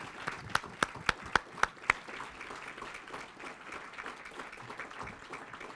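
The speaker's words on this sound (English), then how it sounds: "well-deserved round of applause." Banquet guests clap for parents and guardians standing at an awards dinner, opening with several sharp, spaced claps before settling into steady, moderately distant applause from a room-sized crowd.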